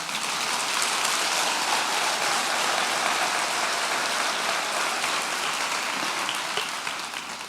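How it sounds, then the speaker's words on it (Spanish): Church congregation applauding during a Sunday sermon, a broad continuous hiss of many hands clapping together, loud and even throughout, almost like heavy rain. "Denle un aplauso al Señor"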